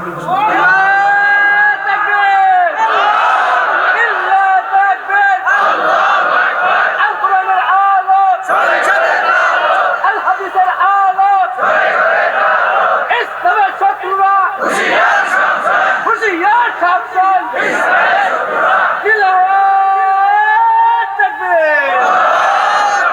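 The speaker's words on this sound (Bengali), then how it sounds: "একজন তাকবীর দেন তো আল্লাহর নামে" A large crowd at a Bangla religious sermon gathering roars the takbir, 'Allahu Akbar,' in loud, repeated massed chanting bursts that swell and fall across the whole stretch.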